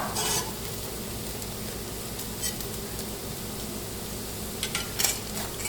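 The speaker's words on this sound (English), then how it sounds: "I might even turn it over one more time because I like my bread to be nice and crispy." Bread slices fry in oil in a pan for tomato and basil bruschetta, giving a steady close sizzle throughout, with a few scraping clicks of a utensil turning them near the end.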